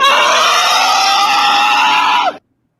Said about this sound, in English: Fixa, we want the orca scream.